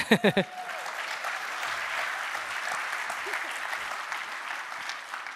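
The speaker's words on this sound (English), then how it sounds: "One more applause for saving us 9 minutes." A conference keynote audience breaks into steady, moderately distant applause after a few sharp sounds at the start, dense clapping holding evenly for the rest.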